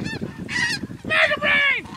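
Snow geese honk loudly and close during a goose hunt, several overlapping nasal calls in quick succession over a rough outdoor background.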